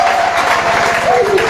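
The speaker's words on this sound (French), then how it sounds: "Est-ce que tu peux acclamer pour le Seigneur?" A church congregation applauds and cheers for the Lord during a French-language sermon, with steady, dense clapping and crowd noise continuing evenly throughout, some voices mixed in.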